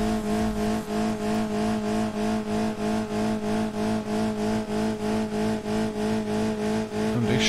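An overheating car engine in BeamNG.drive runs at steady revs, a loud, continuous droning hum with a faint regular pulsing, close and with no other sound.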